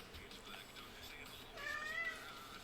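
A pet cat named Kitty meows, a single drawn-out, fairly faint call rising near the end, over low room noise and background game audio from Super Smash Bros. Ultimate.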